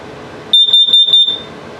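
An LP gas detector alarm on self-test in a 2021 Salem 32BHDS travel trailer sounds a shrill, high electronic tone in four quick pulsing bursts, loud and close, then stops, leaving a quiet background.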